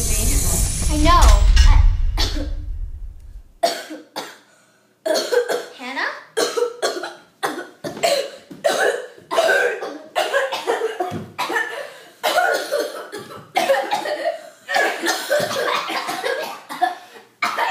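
Repeated coughing fits, loud and close, arrive in short sharp bursts one after another over a long stretch, following a brief opening moment of louder noise.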